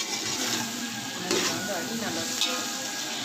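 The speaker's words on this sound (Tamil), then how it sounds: "சேர்த்துட்டு நம்ம நல்லா கலந்து விட்டுக்கலாம். தக்காளி ஒரு 2 நிமிஷம் நல்லா வதங்கட்டும்" Tomatoes are stirred and sautéed in a pan for a wedding-style Muslim biryani, giving a steady close sizzle with a few scraping stirs.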